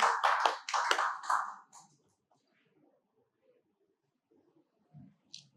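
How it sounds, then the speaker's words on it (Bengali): Applause breaks out from an audience at a hotel event in Kuakata, a short burst of clapping for about two seconds, then near silence with a few faint scattered taps. "আরেকটা হাততালি হবে"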